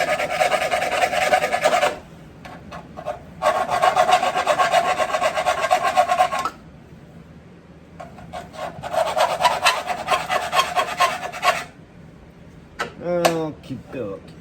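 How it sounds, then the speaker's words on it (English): A burr is filed off by hand in rough rasping bursts: two long stretches of steady back-and-forth strokes, a few short scrapes, then a longer filing run before a quiet close. "just getting rid of the burr right now"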